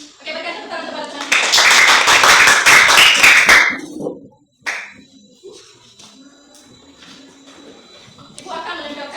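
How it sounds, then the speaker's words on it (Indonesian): A fourth-grade primary school class gives a classmate a round of applause: rhythmic clapping for about two and a half seconds, then a sharp stop, a lone tap, and quiet room noise with a teacher's voice returning at the end. "Oke, berikan tepuk tangan kepada teman."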